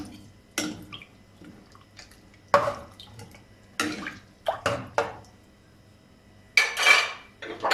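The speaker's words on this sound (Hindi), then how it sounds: "सफ़ेद जीरा, काली मिर्च, दालचीनी और बड़ी इलायची, ये सब ऐसे ही डाल देंगे। तो थोड़ा सा हिला लेंगे।" A spoon clinks and scrapes against a metal pot while cumin, black pepper, cinnamon and black cardamom are stirred in, giving a handful of sharp, close metallic knocks separated by quiet gaps.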